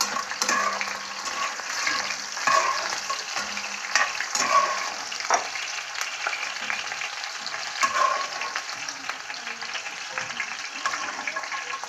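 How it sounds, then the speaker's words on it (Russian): The heart of a wild goat fries in a pan, giving a steady, loud sizzle and crackle with occasional stirring clinks and scrapes of a skimmer throughout. "Это жареное сердечко дикой козочки."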